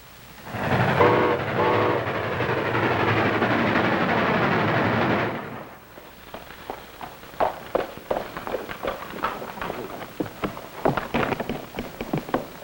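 A train rumbles loudly with a blaring horn, then fades to quieter clattering and footsteps nearby.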